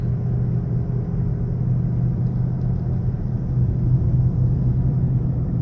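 Steady low engine rumble and road noise from a 2005 Cadillac CTS-V cruising in fifth gear at about 45 mph, a constant, even drone with no revving and no talk.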